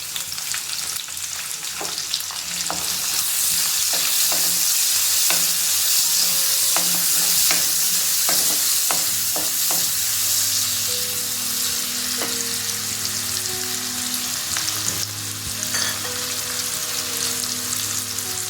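Onions frying in a pan with turmeric for carrot rice, a steady loud sizzle throughout, punctuated by occasional stirring scrapes and clicks, with no voices.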